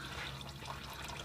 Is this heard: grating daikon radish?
no